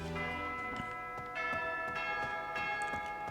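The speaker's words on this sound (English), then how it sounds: "And there's the bell." A bell rings in the video game Fire Emblem: Three Houses, its tones sustained and layered, with faint repeated tick-like strikes beneath them at a quiet level.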